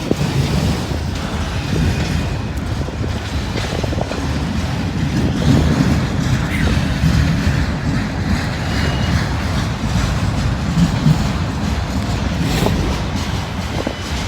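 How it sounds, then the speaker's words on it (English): Long freight train rolling past on the tracks, a continuous loud rumble and rattle of wagons that holds steady throughout with gusts of wind noise on the microphone. "Got a monster train here."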